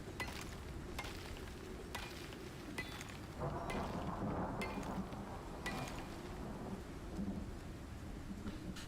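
A rainstorm in the video game ICARUS, with a steady downpour and several sharp thunder claps plus rumbling spread throughout, loud and continuous with nobody talking.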